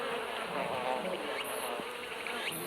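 A steady, dense buzz of many giant hornets at an underground nest, droning continuously at close range with no other sounds.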